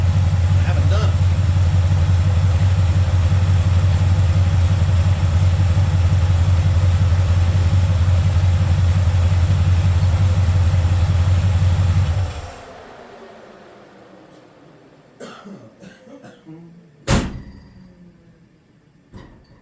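A 1971 Chevy C20 truck engine after a cold start, idling with a loud, steady low rumble close by for about twelve seconds before shutting off, followed by quiet handling noises and a sharp knock.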